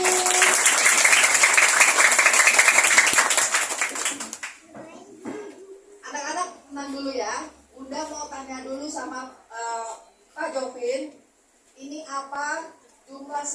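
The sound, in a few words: audience applause welcoming Pak Jovi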